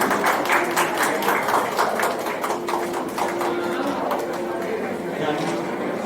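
An audience at an event honouring artisans gives a round of applause, a dense, steady patter of clapping that carries on for several seconds with voices and chatter mixed underneath.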